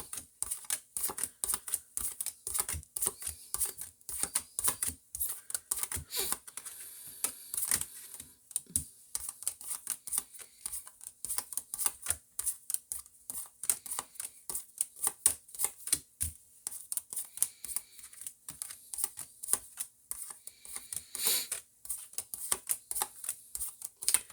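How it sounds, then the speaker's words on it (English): Tarot cards are shuffled close up in quiet surroundings, giving a steady run of soft, rapid riffling and tapping clicks that continues for over twenty seconds with short pauses. "I just want to prove to you that I'm shuffling these cards"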